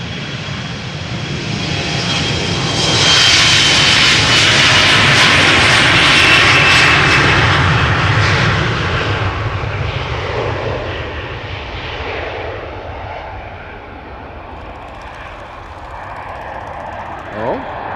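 A KLM Embraer 175 jet airliner spools up and roars down the runway at Amsterdam Schiphol Airport, a loud, rising engine roar that peaks and then fades as it departs into the distance.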